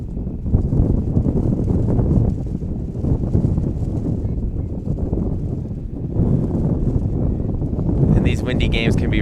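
Gusty wind rumbles and buffets the microphone at an outdoor women's masters ultimate frisbee game, a loud, continuous low roar with voices heard underneath.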